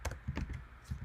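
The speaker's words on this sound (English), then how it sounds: "Type all these in." Close computer keyboard typing as Go code is entered, a quick cluster of about six sharp key clacks in an uneven rhythm.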